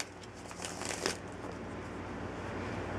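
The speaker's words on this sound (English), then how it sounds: "start shuffling the cards up" Tarot cards being shuffled by hand, a close papery riffling and crinkling burst in the first second, then a soft steady rustle under low room hiss.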